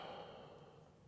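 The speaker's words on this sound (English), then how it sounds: "big exhale through the mouth" A single big exhale out through the mouth during a stress-relief yoga breathing routine, soft and close, a breathy rush that slowly fades over about a second.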